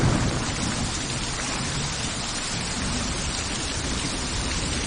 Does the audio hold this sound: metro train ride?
no